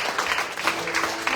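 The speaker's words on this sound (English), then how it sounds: "clap your hands for Jesus" Congregation clapping along at a Sunday evening church retreat in Margao, a dense, steady patter of many hands at moderate volume, lasting a little over a second with no voices over it.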